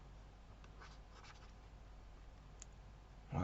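A formula being written by hand, likely chalk or pen: faint scratchy strokes in short bursts over a steady background hiss, quiet and close, with no talking.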